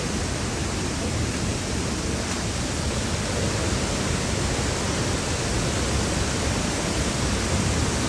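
A waterfall on a trek roars as a dense, constant broadband rush, loud and steady for the whole stretch, with no talk over it.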